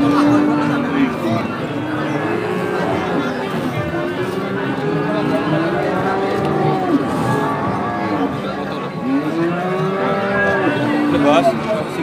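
Cattle at the Pon cattle market in Purwantoro, Wonogiri, Java, mooing repeatedly in long drawn-out calls from several animals nearby, over steady market chatter and crowd hubbub.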